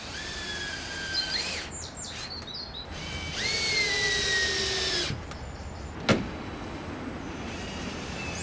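A power drill drives screws into wood outdoors, several short whirring bursts that rise in pitch and stop abruptly, with a sharp knock between them and birds chirping in the background.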